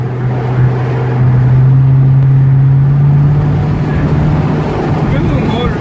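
A restored 1967 Camaro convertible with a Powerglide transmission idles nearby, a loud, steady low engine drone that holds an even pitch while people talk over it.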